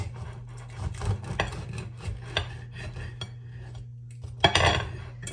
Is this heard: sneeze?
no